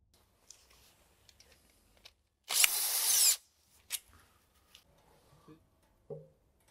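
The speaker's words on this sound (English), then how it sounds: "we now unscrew the oil pan from the transmission" A power tool whirs in one short, loud burst as it backs out oil pan bolts on an Audi S-Tronic seven-speed DSG 0B5 automatic transmission, with scattered clicks and light clatter of parts and tools before and after.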